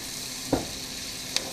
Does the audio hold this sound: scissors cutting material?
no